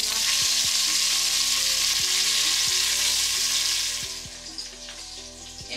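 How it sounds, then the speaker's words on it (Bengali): Fish fries in hot oil in a large cooking pot, giving a loud, dense, continuous sizzle that eases somewhat toward the end, with occasional utensil clicks. "একবারে বড় হাঁড়িতেই মাছ ভাজতে বসাবো"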